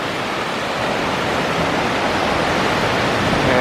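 Horseshoe Falls rushes as a loud, dense, continuous roar of falling water that holds steady throughout.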